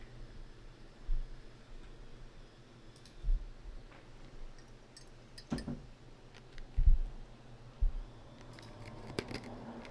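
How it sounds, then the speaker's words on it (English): A handful of soft, sharp mouse clicks at irregular intervals, spaced a second or two apart over a faint steady background hum. "mouse click."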